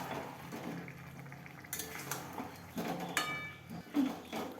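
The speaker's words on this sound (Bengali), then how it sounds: "খুব ভালোভাবে আমি নাড়াচাড়া করে নিয়েছি।" Spiced chicken with Kashmiri red chili powder stirred in a cooking pot, soft scraping and clinks of a spoon against metal over a low sizzle, close and quiet, with no talking.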